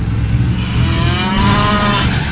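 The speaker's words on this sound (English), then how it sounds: "Cow." A loud, close cow moo sound effect from a Westwood Studios Command & Conquer game, one sustained low bellow heard alone over a dense, steady noise bed.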